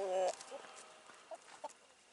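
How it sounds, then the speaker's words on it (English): Farm chickens cluck outdoors: a louder burst of calls opens, followed by a few short, scattered clucks that fade to quiet between them. "We're out here with the chickens, and they're doing really good out here."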